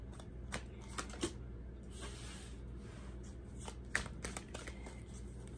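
Tarot cards are shuffled and drawn close by, giving steady riffling and soft slapping card sounds with a few sharper snaps. Someone murmurs quietly underneath.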